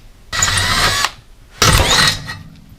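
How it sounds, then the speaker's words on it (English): A power drill with a 5/64-inch bit whines in two short bursts, about a second each, with a brief pause between them, close and loud, while drilling into a gas generator being converted to propane. "Now the drill bit is a 5/64"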